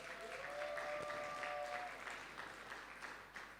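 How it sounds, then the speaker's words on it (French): Audience applauding at a gospel album presentation, a steady wash of clapping throughout, fairly distant, with a faint tone and murmur in the background. "c'est là qu'on acclame très fort pour le Seigneur"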